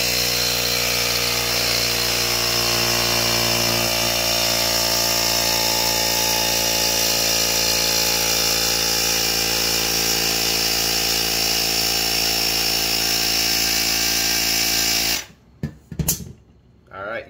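An aerosol can sprays in a loud, continuous hiss while its trigger is held down, a steady close rush of escaping air lasting many seconds before cutting off abruptly, followed by a few brief handling clunks.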